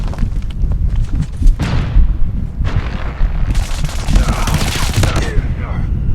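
Rapid bursts of submachine gun fire from an MX9 in Call of Duty Mobile, loud and sustained across the clip with game effects layered over the shots.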